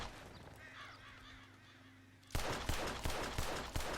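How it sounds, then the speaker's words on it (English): Pistol shots ring out near a Hungarian Halfbred horse in Red Dead Redemption 2: after a quiet stretch with faint ambience, several sharp, loud cracks follow at roughly half-second intervals. "we're gonna shoot a pistol"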